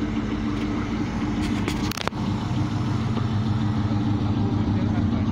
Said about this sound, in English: Rev them again